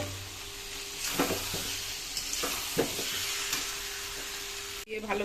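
Potatoes and masala frying in a pan, a low sizzle under several distinct scraping strokes of a spoon stirring, close and moderately loud, ending with a brief clatter.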